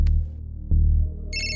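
A telephone rings with an electronic ringtone in two loud pulsing bursts, each followed by a brief gap, and a higher tonal chime enters near the end; no one speaks.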